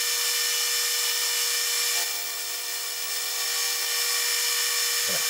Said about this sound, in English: Got a 3/8 inch end mill in there and I'm just gonna buzz it off.